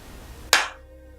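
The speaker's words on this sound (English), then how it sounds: "time to give myself a clap here" A single hand clap, sharp and close, standing alone after a faint background hum and quickly fading.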